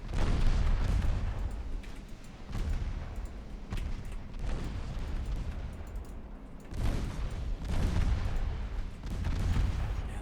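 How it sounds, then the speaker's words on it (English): Naval battle in the Ultimate Admiral Dreadnoughts game, with a torpedo hit and ship gunfire: continuous heavy booming and rumbling explosions, loud and dense throughout, with stronger blasts recurring every few seconds and no talk. "we score a single torpedo hit."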